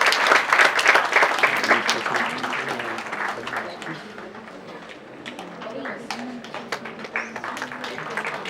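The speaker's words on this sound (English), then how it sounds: "Round of applause for the youngest" An auditorium audience applauds at a patient-care safety and sustainability event, a dense wash of clapping that starts strong and thins slightly while a voice speaks over it.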